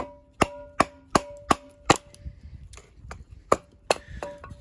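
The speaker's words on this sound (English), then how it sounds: "it's gonna be loud because that's a cast iron table" A fixed-blade knife, the Architect Knives AK 5.5, chops down onto a cast iron table in about ten sharp, loud, ringing strikes at a fairly even pace, with a metallic ring lingering after each hit.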